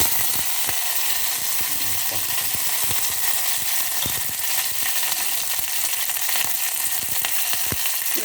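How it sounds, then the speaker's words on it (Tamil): Curry leaves sizzling and crackling in hot oil in a pan, a steady loud hiss dotted with sharp pops and spits, with no talking. "ஸோ இந்த கருவேப்பிலை கொஞ்சம் போட்டுட்டு"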